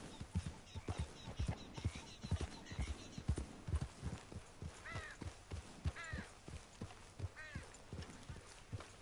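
Horse hooves clip-clop at a walk in Red Dead Redemption 2, a steady uneven rhythm of close, distinct steps over a quiet outdoor game backdrop, with a few faint bird calls high above.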